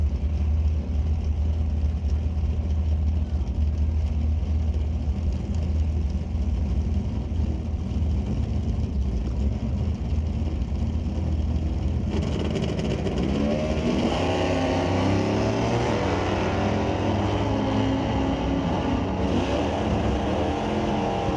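Two drag racers, a ragtop Q-Stock automatic Impala and a 1995 Q-Stock Dakota, roar continuously on the strip, with a loud engine drone that swells into harder revving partway through.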